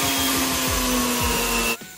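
Small drill cutting through a pink-plated copper heart necklace pendant. A loud, steady high whir holds for under two seconds, then cuts off abruptly.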